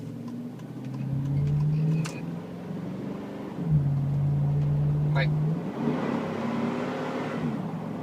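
A 2005 Chevy Tahoe Z71 V8 with an old 4-speed automatic revs hard at full throttle while driving at night, a loud sustained engine roar rising in pitch with shifts, as someone briefly speaks.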